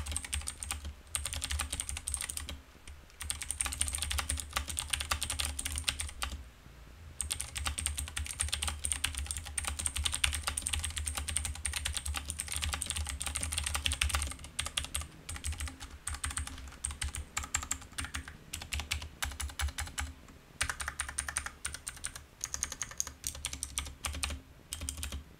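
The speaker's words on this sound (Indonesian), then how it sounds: "switch yang gue pakai ini adalah switch yang blue, ya typing feel-nya mirip-mirip sama keyboard Rexus" Clicky blue switches on a Digital Alliance Meca Air S mechanical keyboard clatter in a steady, fast stream of close keystrokes that runs almost continuously, with only a few short pauses.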